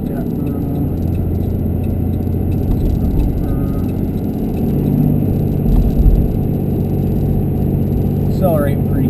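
A Cummins diesel truck engine pulls hard under a heavy load while its exhaust system regenerates, heard from inside the cab as a steady, loud low rumble that swells around the middle, with some muffled talk.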